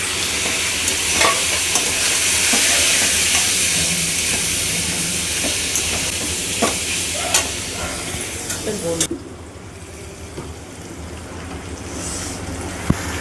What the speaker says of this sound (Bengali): এবার মশলার সঙ্গে এগুলোকে ভেজে